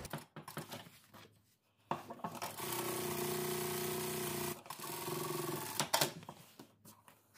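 A sewing machine stitches a dress seam, running steadily for a few seconds in the middle after short bursts of handling, then stopping and restarting briefly near the end; no talk.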